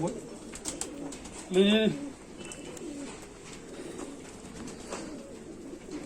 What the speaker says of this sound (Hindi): एक कबूतर है इधर पड़ा हुआ